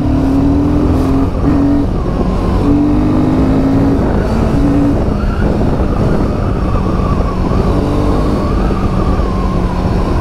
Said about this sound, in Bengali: রাস্তা একটু ফাঁকা পেয়েছিলাম, বাইকটা একটু ভাগিয়ে দেখলাম